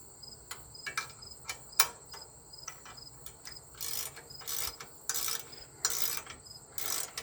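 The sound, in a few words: ratchet wrench tightening WD45 three point kit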